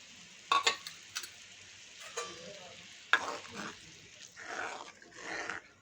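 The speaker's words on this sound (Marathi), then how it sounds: "आणि चांगलं हलवून घ्यायचं आहे." A spoon stirs gram flour batter for pithla in a pot, with quiet scrapes and soft clinks in irregular bursts over a faint bubbling background.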